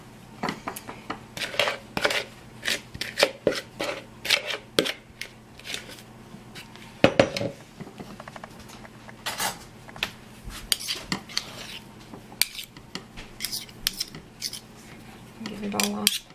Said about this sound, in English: And I turn out my dough.